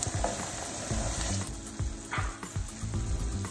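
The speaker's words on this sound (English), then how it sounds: "we're gonna deglaze the pan with our white wine" Pan deglazed with Chardonnay white wine for a farfalle with chicken and roasted garlic dish, giving a steady, close sizzle with soft stirring scrapes and no talking.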